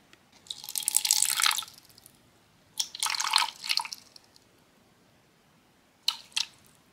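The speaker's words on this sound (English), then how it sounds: "Let's go ahead and add the water." Water is poured into 100 grams of plaster powder in three short splashing bursts, the first longest, separated by quiet pauses.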